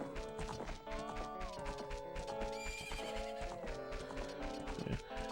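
A horse in The Legend of Zelda: Ocarina of Time gallops with steady clip-clop hoofbeats and a whinny, heard over layered game music with a voice faintly in the mix.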